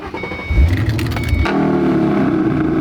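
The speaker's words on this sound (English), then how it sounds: "not only do you get the V8, you get the warning of the supercharger too" A supercharged V8 car engine idles and then rises with a brief rev, the supercharger's whine riding over a deep, steady rumble heard up close from inside the car.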